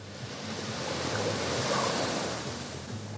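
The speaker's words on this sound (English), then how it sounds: "Those are the Waves behind us" Ocean waves wash onto a beach in a steady, broad surf roar that swells slightly and fades, with some wind and no voices.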